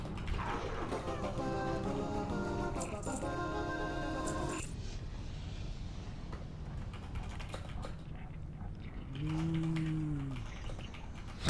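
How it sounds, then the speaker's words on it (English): A single low, drawn-out cow moo rises near the end, close and fairly clear over a steady background hum and earlier musical tones. "Somebody's mooing."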